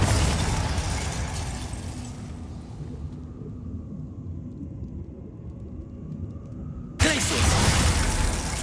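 A Bombarda blasting spell explodes in the Hogwarts Legacy video game, starting as a loud, broad rumble that fades into quiet, then cut off by a second sudden blast that stays loud to the end.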